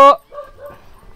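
A dog outside a house barks once, loud and close, as a visitor calls out at the door, followed by softer yips and whimpering under the voices.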